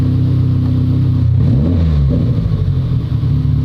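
Turbocharged car engine with a newly fitted blow-off valve, revving loudly up and down close by, with a rising and falling engine pitch over a steady rumble and no talk.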